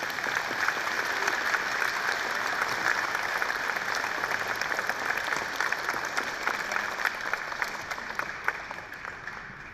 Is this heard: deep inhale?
no